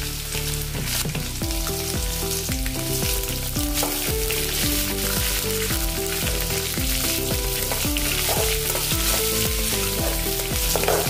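Coarsely crushed unpeeled garlic and green chilies frying in a pan, a steady dense sizzle and crackle throughout with occasional stirring, no talking.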